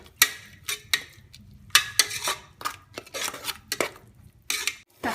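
Metal spoon scraping and clanking against a cooking pan while tomato paste is mixed and sautéed for kabsa rice, giving irregular sharp clinks and scrapes in bursts, close and fairly loud, with no talking.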